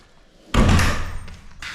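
A heavy door of a Wood Mizer KD250 lumber kiln lands on concrete with one loud, abrupt thud, then a fading rumbling rattle and a second softer knock.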